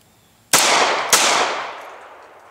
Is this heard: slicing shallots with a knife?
no